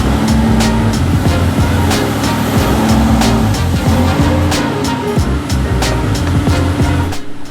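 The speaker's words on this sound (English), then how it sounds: "I dubiously popped the car into reverse and hope for the best" A crashed Aston Martin V8 Vantage reversing with the handbrake still on, its engine revving and straining with low rumbling and tire noise, loud and close, running steadily throughout.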